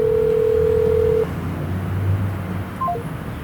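A telephone line tone sounds as a steady hum that cuts off, followed by a low hum and a few quick beeps in a police phone call, faint line noise underneath.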